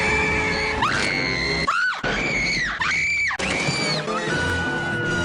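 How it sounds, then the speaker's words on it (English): A woman screams repeatedly in a scene from the Batman film, long shrill cries with brief breaks between them, loud and close over a busy background of music and commotion. "All this woman ever does is scream."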